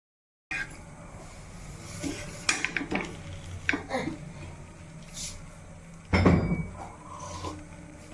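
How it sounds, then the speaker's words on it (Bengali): An egg roll toasting on a tawa griddle at home gives scraping and clinking of a utensil against the hot metal, with a few sharp knocks and a louder clatter near the end. "এটাকে আমি একটু সেঁকে নেবো। তাওয়ার মধ্যে দিয়ে দিলাম,"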